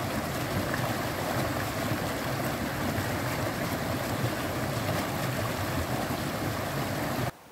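A river flows close by, a dense, steady rushing wash of water that holds at an even level throughout, then cuts off abruptly near the end. No one speaks.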